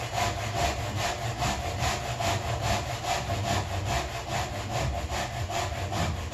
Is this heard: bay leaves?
no